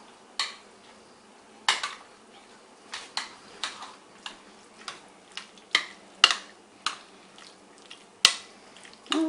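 Spoon knocking and scraping against a bowl while stirring a broccoli casserole mixture, a series of separate sharp clinks and taps at irregular intervals, close and fairly quiet with no talking.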